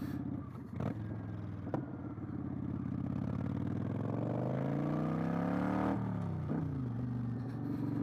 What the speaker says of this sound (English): this exhaust sounds great on this thing